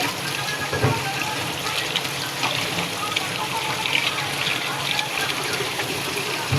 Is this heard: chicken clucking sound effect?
no